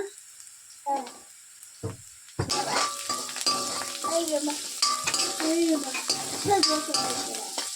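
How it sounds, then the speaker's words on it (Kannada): Onions frying in a pan for coconut rice, a steady sizzle that starts abruptly partway through, with spatula scraping and stirring clinks over it after a few quiet knocks. "ಈರುಳ್ಳಿ ಎಲ್ಲ ಚೆನ್ನಾಗಿ ಫ್ರೈ ಆಗಿದೆ"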